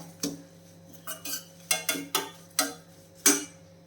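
Curry leaves dry-roasting in a pan over medium flame, stirred with a spoon: a series of sharp scraping clicks and crackles arriving in irregular bursts, close and fairly quiet, with no talking.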